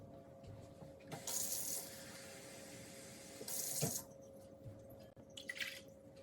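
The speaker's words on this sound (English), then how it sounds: "first we're going to add 2 cups of hot water to our bowl" Hot water pours into a mixing bowl in two steady splashing runs, close and fairly quiet, followed by a short trickle near the end.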